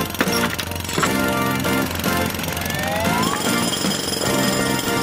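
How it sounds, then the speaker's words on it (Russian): Cartoon jackhammer pounding away in rapid, continuous bursts, loud and close, with busy background music and effects and no talk for about five seconds. "отбойный молоток должен помочь."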